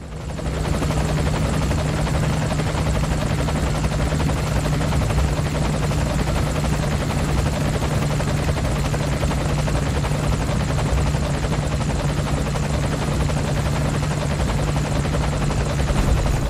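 A helicopter flies in Metal Gear Solid V with a constant loud rotor drone and low engine hum running evenly throughout, with no other sounds over it.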